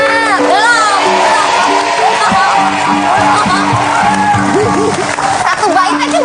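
A television studio audience claps and cheers for a singer, a loud continuous burst of applause with whoops and shouts blended with singing and talk.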